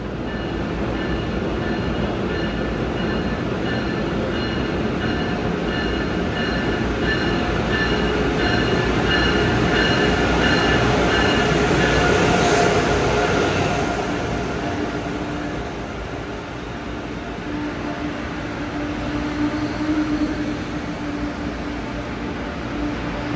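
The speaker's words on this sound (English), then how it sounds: "Next is an Acela arriving." Amtrak Acela train pulling into Baltimore station on the Northeast Corridor: loud, sustained rail rumble and rolling wheels, swelling as it nears, with squealing wheel tones and a steady hum as it slows.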